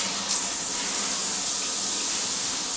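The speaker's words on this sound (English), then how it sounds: "It's like one of those fancy rain showers." Water pours steadily from a rain-style overhead shower, a bright, even hiss of spray that starts almost at once and runs unbroken for a few seconds, with no talking.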